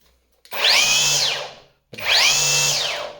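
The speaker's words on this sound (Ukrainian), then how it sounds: "Працює як звичайний тример на акумуляторний." Cordless Revolt battery string trimmer revving up twice, each burst a loud whining motor whir that rises quickly, holds, then winds down, heard close with no talk.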